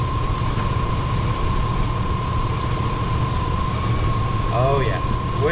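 A 2004 GMC Yukon engine runs steadily near the microphone as the transmission is shifted through the gears, with a constant drone and a persistent whine; a person speaks briefly near the end.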